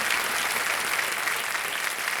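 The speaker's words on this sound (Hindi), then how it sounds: "तालियां बज जाए इनके लिए कि आप खेल को क्विट कर रहे हैं" Studio audience applause for a contestant quitting the game on the Hindi quiz show Kaun Banega Crorepati, Season 14: dense, steady clapping from a full crowd, loud and continuous throughout with no talk over it.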